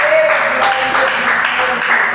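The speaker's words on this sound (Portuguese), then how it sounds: "Bate palmas para Jesus." Church congregation clapping for Jesus during worship, a loud dense wash of applause filling the room, steady throughout with a faint tonal note underneath.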